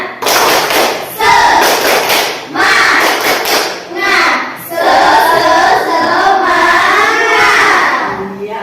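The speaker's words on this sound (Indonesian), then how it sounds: "2, tepuk 3. Ya, tepuk semangat." A group in an Indonesian teacher-coaching session does a rhythmic spirit clap, tepuk semangat: loud bursts of patterned clapping in several rounds with brief gaps, mixed with voices chanting and calling out together.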